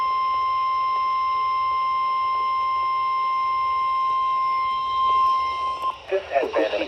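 An emergency weather warning alarm sounds as one loud, steady electronic tone held for nearly six seconds, then cuts off into a brief burst of warbling data-like chirps.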